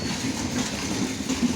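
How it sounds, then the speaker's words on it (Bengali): A long electric goods train passes with a continuous, moderately loud rumble and faint rolling rattle, steady throughout with no voices. "দেখুন একটা ট্রেন প্রায় পেরোতে প্রায় 5 মিনিট সময় নিয়ে নিল।"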